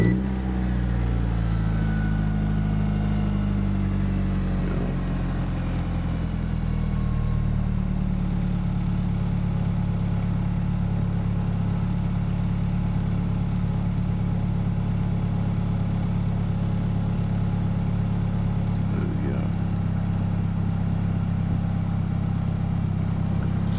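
A boosted Mitsubishi Eclipse with a 2.3 stroker engine catches on the first crank and settles into a steady, loud, rumbling idle, running alone and close for the whole stretch with no voices over it.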